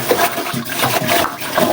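Rice being washed in water at home, a short burst of swishing, splashing water close up.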